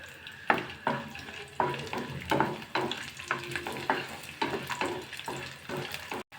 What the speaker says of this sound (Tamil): 6 காஞ்ச மிளகாய் சேர்க்குறேன். 4 பல்லு பூண்டு சேர்க்குறேன். 2 துண்டு இஞ்சி,